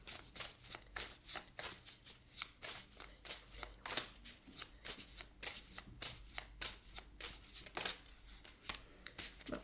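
A deck of oracle cards is shuffled by hand, a steady run of close, crisp riffling bursts repeating every fraction of a second, with no voice over it.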